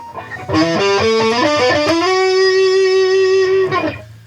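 Boss OD-200 pedal set to a boogie, V-twin style overdrive, shaping an electric guitar: a quick run of picked notes settles into one long sustained chord that rings loud and alone before fading out.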